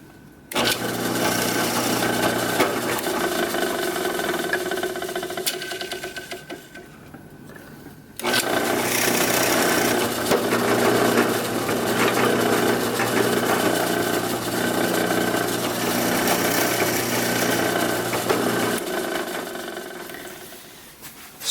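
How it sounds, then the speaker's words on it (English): A power drill with a 1/4 inch bit whirs steadily into wood for several seconds, pauses briefly, then runs again at a constant pitch before winding down near the end. "I'm using a 1/4 inch drill bit for 1/4 inch magnets."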